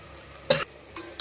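A spoon stirs curd into a mushroom masala cooking in a pan, giving three short scraping strokes, the first loudest and the last two briefer, over a faint sizzle.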